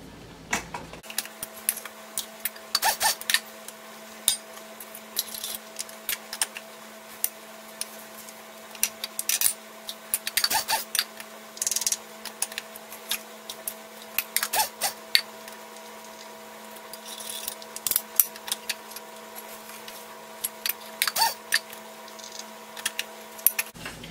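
Sesame seeds are ground for gomasio, giving a steady low hum with irregular clicks and sharp crackling ticks spread throughout.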